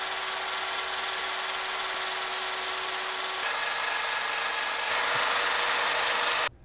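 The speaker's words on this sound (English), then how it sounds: "So I'm going to continue sanding that." A power tool sands a wooden bowl with nuts embedded in its live-edge surface, giving a steady, close, high whirring hum that shifts pitch slightly partway through and then cuts off abruptly at the end.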